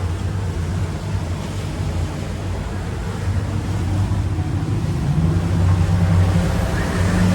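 A Chris Craft boat with about 1,200 horsepower of engines speeds across open water off Miami, giving a steady loud roar of engine, rushing hull spray and heavy wind buffeting the microphone, with no break throughout.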